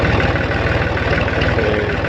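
A 2010-model tractor engine runs loud and close while ploughing a field, a steady low throbbing rumble with even rapid pulses and no pauses.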